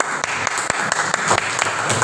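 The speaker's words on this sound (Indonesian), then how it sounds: "tepuk tangan dong" A class of fifth-grade students applauds, with many hands clapping in a brief, dense burst at close range.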